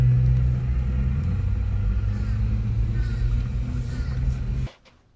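A car idles and rolls slowly through a fast food drive-through lane, a steady low engine rumble that continues evenly for several seconds before cutting off abruptly near the end.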